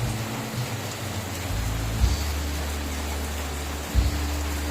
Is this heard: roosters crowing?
no